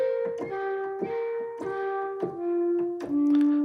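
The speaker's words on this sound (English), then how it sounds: "That's the sound of a flute being played" Breathy flute tone from an Arturia Augmented Yangtze synthesizer playing a short descending phrase of about six notes, each with a soft airy onset and a clear sustained pitch, fairly quiet and alone.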